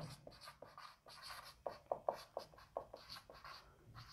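Pen strokes scratching across paper or a board for a lesson on the conditional operator, a run of short, rhythmic marks, fairly close and fairly quiet, with no talk over them.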